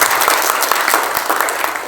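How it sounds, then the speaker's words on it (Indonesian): A church congregation at a Sunday service claps together in a loud, dense burst of applause that continues evenly for the whole short stretch. "Tepuk tangan buat Tuhan"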